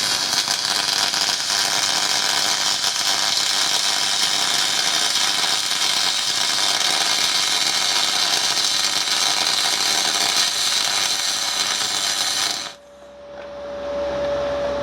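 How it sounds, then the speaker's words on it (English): MIG welding aluminium with an R-Tech MIG 180 spool gun: a steady, loud crackling arc hiss runs continuously for about twelve seconds, then cuts off abruptly, leaving quieter room noise and a faint hum. "Try one more run into the bottom of this weld."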